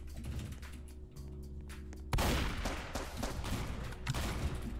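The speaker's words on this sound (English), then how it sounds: "You're not ready for this SMG" SMG fire in the Roblox-style shooter Strucid comes as bursts of rapid synthetic shots, tight and close, after a steadier low hum, with the loudest volley starting abruptly midway and continuing in clustered rattles to the end.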